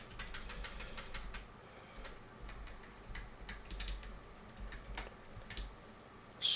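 Quiet, close clicking of a computer keyboard: irregular bursts of light key taps over a low steady hum, some keystrokes slightly sharper than others, with no voices.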